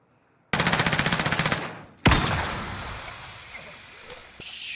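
A rapid burst of automatic gunfire rattles loudly in Modern Warfare Search and Destroy, then a single heavy blast booms and fades into a long hissing decay.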